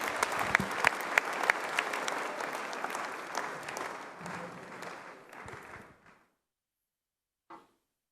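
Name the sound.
audience applause welcoming a speaker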